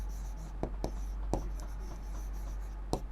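Marker or chalk tapping and scratching on a board during a maths lesson, in short separate strokes with quiet pauses between, close and fairly soft over a steady low hum.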